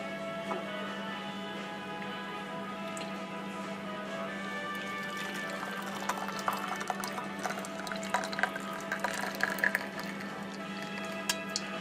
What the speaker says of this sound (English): I'm just going to strain this here in my little porcelain dispenser